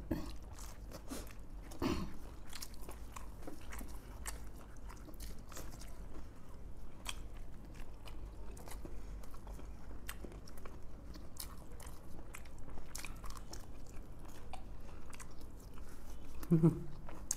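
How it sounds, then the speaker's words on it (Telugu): Crunchy bajji fritters being bitten and chewed up close in a food-challenge setting, with repeated crisp crunches and soft chewing throughout, slightly louder near the end. "బజ్జీ చాలా ఫాస్ట్ తింటున్నాను"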